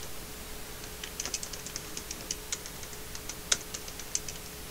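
Light keystrokes tapped on a computer keyboard while setting up a Fedora Core 10 Linux server, an irregular run of soft clicks standing alone against faint steady background hum.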